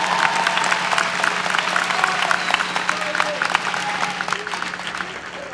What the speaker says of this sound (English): Give them a big round of applause for all that they did for you all